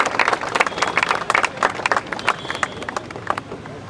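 Crowd applause for a man named Sandeep at a Kargil Vijay Diwas event in Kadri, Mangaluru, marking the unveiling of a war tank. Dense clapping bursts come close and loud, then thin out toward the end.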